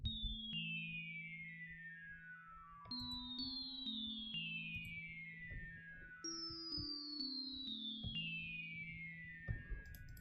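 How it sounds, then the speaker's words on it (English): A cascading bells loop heard alone: bright, ringing bell tones tumble downward in repeated descending runs over a low sustained bass tone, restarting several times, quiet and clean. "it's cascading bells, and it's a really cool sound"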